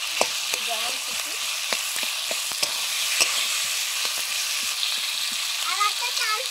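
Boiled potatoes being broken up and stirred in a hot wok of oil, with a steady sizzle and repeated sharp scrapes and taps of the spatula, close and fairly loud, with no voices.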